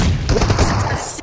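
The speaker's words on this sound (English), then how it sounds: "It's a beautiful grenade actually doing a bit of damage there" A rapid, dense burst of gunfire and explosive cracks from an esports match, loud and crowded for a brief moment.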